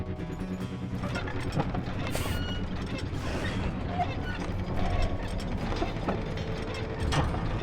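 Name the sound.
elevator machinery in Call of Juarez: Gunslinger video game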